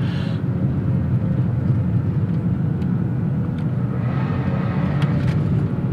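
A 2019 BMW X5 xDrive 40i with its B58 engine and ZF eight-speed gearbox pulls hard under acceleration, a steady low engine and road rumble from inside the cabin with slight changes as gears shift.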